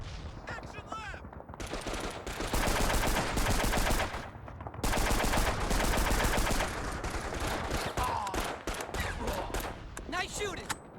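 Sustained bursts of automatic gunfire and rifle shots fill a Call of Duty 2: Big Red One battle on Xbox, loud and continuous with a brief lull, while voices shout over the shooting.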